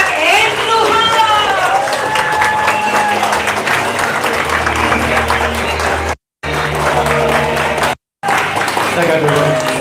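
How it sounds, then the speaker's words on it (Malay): Audience applause at a motivational meet-and-greet seminar, loud sustained clapping from a crowd with a host's amplified voice speaking over it, briefly cutting out twice near the end. "mari kita sambut dengan tepuk tangan yang meriah"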